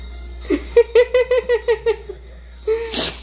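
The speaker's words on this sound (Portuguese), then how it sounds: "mais um espirro" A short burst of laughter-like vocal pulses, then a sharp sneeze near the end, close and loud.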